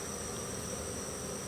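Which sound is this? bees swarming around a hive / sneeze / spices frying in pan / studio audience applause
bees swarming around a hive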